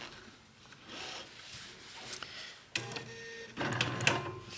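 A sewing machine stitches a few times in place on a quilt block during ruler quilting, heard as short, quiet mechanical bursts, the busiest near the end.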